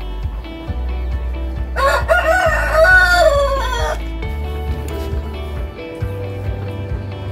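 Rhode Island Red rooster on a free-range chicken farm gives one loud, full crow near the middle, over steady low background rumble and faint clucks from other birds.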